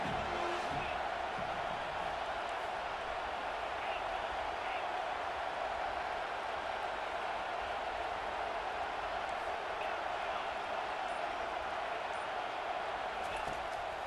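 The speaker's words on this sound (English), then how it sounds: "This crowd rising up, sensing that its defense needs some help." A football stadium crowd at a college game rises in a sustained, distant roar that holds steady for the full stretch, with a commentator talking over it.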